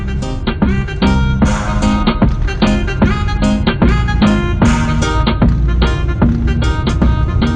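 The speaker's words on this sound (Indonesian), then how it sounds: "ini saya lagi mutar musik di mobil, mungkin kalian bisa dengarkan kualitas suara perekamannya seperti apa" Music plays inside a car, picked up by a 70mai A500S dash cam, with a steady rhythmic beat and a full mix running loud and continuous throughout.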